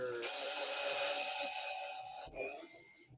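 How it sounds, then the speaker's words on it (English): A power drill bores into a Heng Long Tiger RC tank, a steady high whine that holds for about two seconds, then drops off and restarts more softly, recorded up close with no talking. "I have your permission to drill it, right, Craig?"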